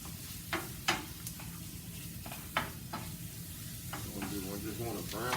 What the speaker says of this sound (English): we're gonna cook this off and brown it off here